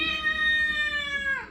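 A house cat gives one long, loud, steady meow lasting over a second, close to the microphone, with a slight drop in pitch as it fades out at the end.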